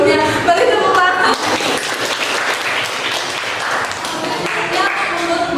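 A group in a classroom or workshop applauds, continuous clapping that swells and holds for several seconds, with voices mixed in.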